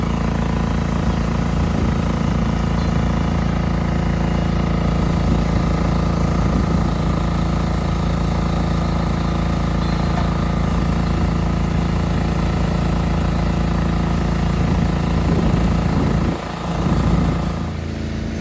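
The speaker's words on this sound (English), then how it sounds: "That water machine's noisy." A noisy water machine at a demolition site hums with a steady droning engine note at constant pitch, loud and close, with a brief dip and thump near the end.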